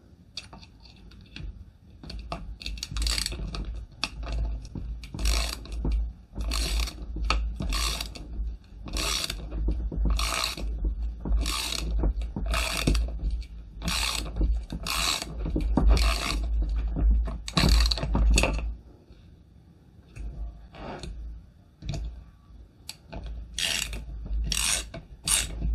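Parkside multi socket tool tested outdoors on a bolt, a series of repeated rasping, ratcheting scrapes in short bursts with a low mechanical hum beneath, close and loud, pausing briefly near the end before resuming.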